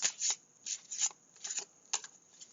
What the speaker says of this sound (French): Alors je vais prendre le jeu de cartes.